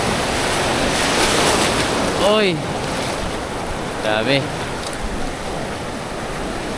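Strong ocean waves wash against a rocky shoreline in a constant, loud roar of surf mixed with wind buffeting the microphone. Two brief vocal exclamations break through the noise.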